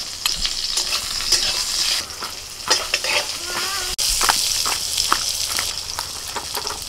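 Chanda fish coated with salt and turmeric frying in oil, a strong continuous sizzle broken by stirring clatters and utensil scrapes, close and busy with no speech.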